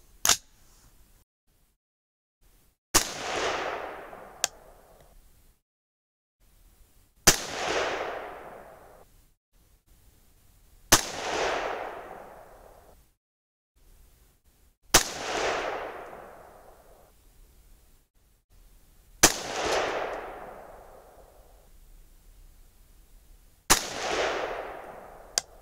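A rifle chambered in 300 Blackout fires single shots on an outdoor range, six loud sharp cracks spaced several seconds apart, each followed by a rolling echo that decays, with a few faint clicks between and no talking.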